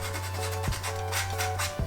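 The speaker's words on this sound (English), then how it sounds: "Going to touch up the edges a little with some sandpaper." Sandpaper rubs steadily along the edges of a bass guitar pedal board, a close, continuous rasping scrape with brief harder strokes and a steady low hum underneath.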